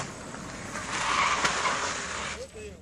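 A vehicle braking hard with drum brakes, tires skidding and squealing for a couple of seconds, with voices talking over it.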